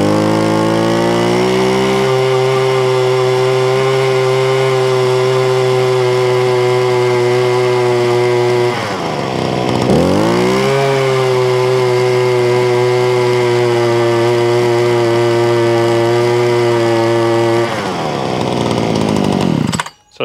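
A petrol post hole auger engine runs steadily with a strong harmonic buzz, briefly dipping in pitch around the middle and again near the end before cutting off abruptly.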